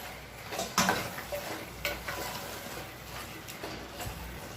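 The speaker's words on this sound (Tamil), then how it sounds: "நான் அரை கிலோ சிக்கன் எடுத்துருக்கேன் இதை சேர்த்துக்கலாம் இப்போ இப்போ இதை நல்லா கிளறி விட்டுக்கலாம்" Half a kilo of chicken being stirred into a yogurt masala for Ambur chicken biryani, with soft spoon scrapes and clinks against the pot over a faint sizzle, recorded close and quiet.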